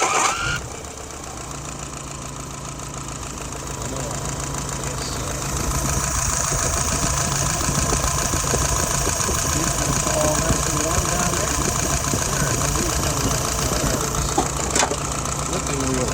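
A Jeep CJ5 engine cranks and starts, then settles into a steady idle with a constant low hum that picks up slightly partway through and stays even to the end.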